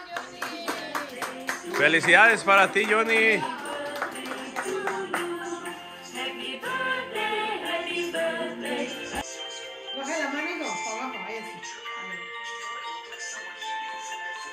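Guests clap at a birthday party, with scattered handclaps under singing and lively talk, while a tone rings alongside for much of the time.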